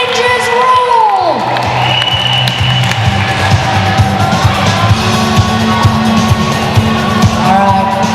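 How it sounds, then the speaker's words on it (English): Crowd at a roller derby bout in Port Macquarie cheering, whooping and clapping for the non-skating officials, a loud sustained roar that swells after an announcer's voice and carries on with scattered yells. "can I have a round of applause for the non-skating officials?"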